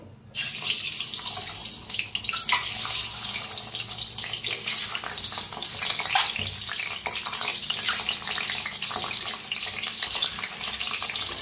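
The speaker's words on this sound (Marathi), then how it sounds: "अंडे कट करून घेतले ते तेलात सोडूया।" Slit boiled eggs dropped into hot oil for masala eggs give off a loud, continuous sizzling hiss that starts abruptly and crackles unevenly throughout, close and alone.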